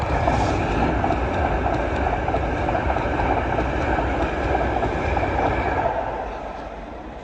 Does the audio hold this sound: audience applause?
no